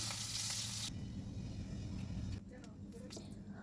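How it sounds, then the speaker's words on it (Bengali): Hilsa fish frying in hot oil gives a loud, dense hiss that drops to a quieter, steady sizzle partway through as the pan is taken off. "মাছটা ভাজা করা হয়ে গেছে এখন কিন্তু আমি মাছটা নামিয়ে নিচ্ছি"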